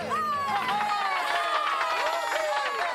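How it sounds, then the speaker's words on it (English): Cartoon crowd in Andalucia lets out a final cheer, many high, excited voices whooping and calling out together at once, loud and close, sustained for a few seconds. "Everyone, let's give our friends a final cheer."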